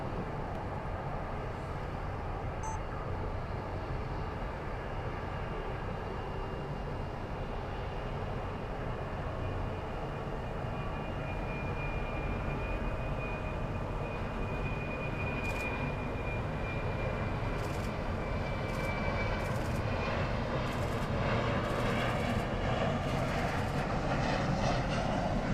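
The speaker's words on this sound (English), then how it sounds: "capturing Estafeta 737-400 Cargo" An Estafeta Boeing 737-400 cargo jet at Miami Airport produces a broad, steady engine roar that rises toward the end, heard from a distance with a thin whine across the rumble.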